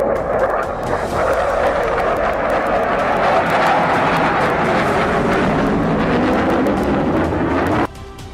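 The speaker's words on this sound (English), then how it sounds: "The Mirages pulled in as the jets closed into combat range." Mirage fighter jets close into combat range, a loud, steady roar of jet engines that holds for several seconds before dropping off sharply near the end.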